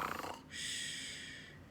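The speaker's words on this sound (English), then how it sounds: "Soon he fell asleep and began to snore." A storyteller voices a giant's snoring, with a rasping inhale followed by a long, steady hissing breath, close and fairly quiet.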